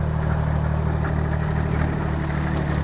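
A tractor engine runs steadily throughout, a low continuous rumble with a constant idling drone, close and fairly loud, with no talking over it.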